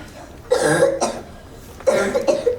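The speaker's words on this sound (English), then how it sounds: "that's quite the cough you have there" Two harsh, raspy coughs, each a short burst of hacking, separated by a brief pause, close and fairly loud.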